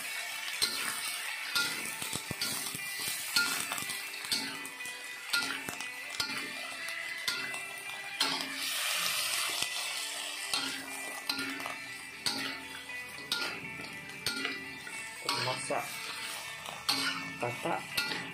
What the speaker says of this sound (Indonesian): Goreng cili kering.